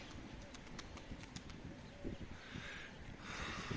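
Pigeons coo softly in the distance, with faint fluttering and rustling; quiet and low in level.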